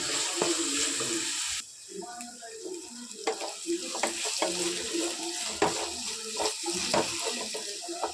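Chopped onions stirred with a spatula while sautéing in a hot pan for a squid roast: a steady sizzle runs underneath, with repeated scraping and tapping strokes against the pan, close and fairly loud.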